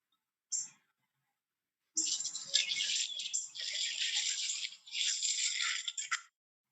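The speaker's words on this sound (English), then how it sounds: "Those are seeds being collected and being put down on the ground for the birds" Seeds rattle and scrape in a scoop with a brief shake, then a longer rustling pour and scatter onto the ground for birds, close and fairly quiet.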